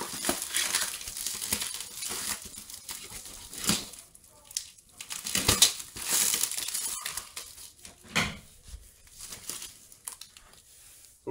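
Crinkling and crushing of packing paper and newspaper while a cardboard box is unpacked, with irregular bursts of rustling and tearing, close and fairly loud, no talk.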